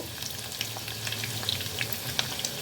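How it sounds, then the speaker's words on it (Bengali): Potatoes and fresh grated coconut fry in a pan, giving a close, steady sizzle with small crackles and the occasional stir. "এই নারকেল কুড়াটাকে এই আলুর সাথে একটু ভেজে নিব"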